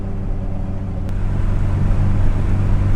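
A Volvo 240 with a swapped-in T5 engine on its first test drive, a steady low engine drone with wind rush that swells slightly louder as it goes, no talking.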